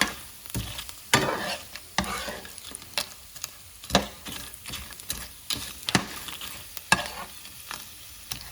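Eggs frying in oil in a pan already soaked with tortilla, stirred with a utensil: a steady soft sizzle broken by regular scraping knocks, about one each second, close up and alone.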